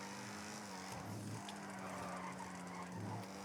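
Car racing at speed in the GTA 5 video game, with a steady engine drone and tyre squeal and skidding sounds rising and falling throughout.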